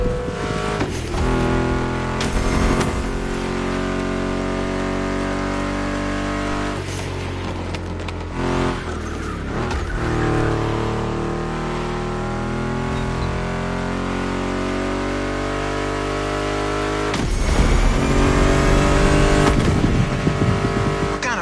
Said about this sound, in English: Meshes well with the sound of the engines